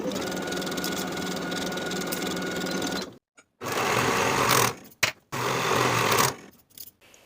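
A sewing machine runs in two long bursts and a shorter third, stitching the shoulder seams of a blouse bodice with brief pauses between, close and steady.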